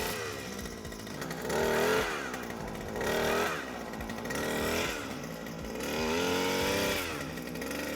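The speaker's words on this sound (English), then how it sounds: "The auger seems to be working well" A gas-powered auger digs a hole in a yard, its small engine droning steadily and surging in several revving swells as the throttle is bumped up and eased off.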